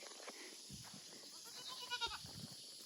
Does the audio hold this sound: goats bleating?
yes